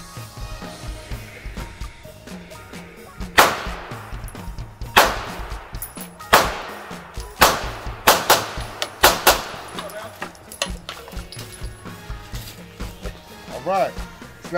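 A CZ 2075D Rami pistol fired at a shooting range, about eight sharp, loud reports spaced roughly a second apart, with brief echoes after each shot and some talking around them.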